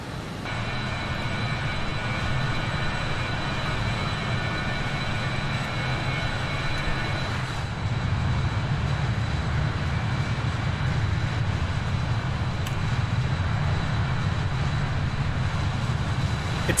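Jet engines of a BAe 146 airliner in a flight simulator game drone loudly and steadily, a continuous broadband roar with a faint high whine that holds for the whole stretch without a break.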